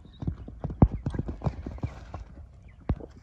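Horse hooves clip-clop in a quick, uneven run of close, sharp knocks from a well-fed horse bred for ulak (goat-dragging) races, with faint voices underneath.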